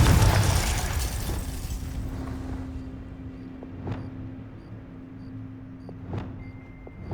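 A Confringo fire spell bursts in Hogwarts Legacy, a loud, booming explosion right at the start that quickly fades into a low rumble, with faint scattered pops and a steady hum trailing afterward.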